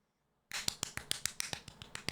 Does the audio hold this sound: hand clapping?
yes